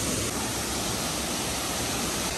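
A waterfall pours steadily near a campsite, a continuous broadband roar heard at moderate loudness with no talk.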